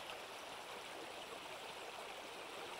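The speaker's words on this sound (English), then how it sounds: "Listen to the stream." A stream flows in a steady, broad rush of water, constant and unbroken, fairly quiet and alone without voices.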